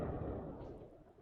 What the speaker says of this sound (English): Oh, we're hearing more explosions.